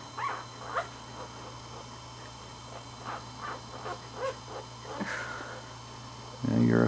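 A one-day-old Pembroke Welsh Corgi puppy gives soft, intermittent whimpers and squeaks close by, while adults talk quietly over them and sniffing and rustling fill the gaps.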